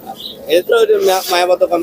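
Pigeons coo in soft, rolling bursts up close, mixed with a voice talking over them throughout.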